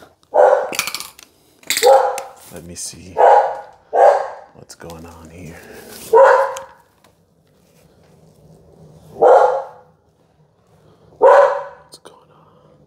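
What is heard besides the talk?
dogs barking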